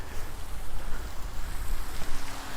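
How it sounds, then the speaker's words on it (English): An artificial waterfall running along a creek in Regina, a steady broadband rushing wash that stays loud and continuous throughout with wind noise on the microphone. "Yep, it's running right there. There's the waterfall."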